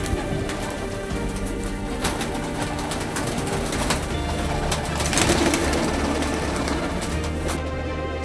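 Pigeons coo steadily in a large loft holding over two thousand pairs, the soft overlapping calls continuous and close, with a few brief flutters and a constant background hum.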